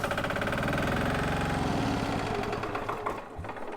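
A military single-cylinder diesel generator engine runs with a rapid, even mechanical chugging that stays loud and close, then sputters and falters near the end, with no voices over it.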